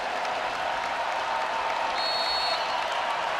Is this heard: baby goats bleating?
no